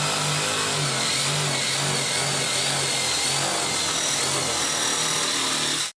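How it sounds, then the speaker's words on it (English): A handheld jigsaw makes a rough cut through wood, a steady loud motor whine with blade chatter that runs continuously and then stops abruptly at the end. "I'll use a jigsaw because it's handy and lightweight."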